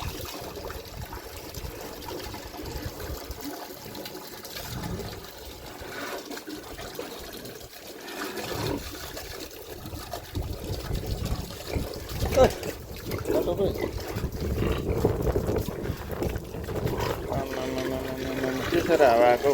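Water is poured over a pig on a hot day, faint trickling and dribbling at first that grows into fuller pouring and splashing toward the end.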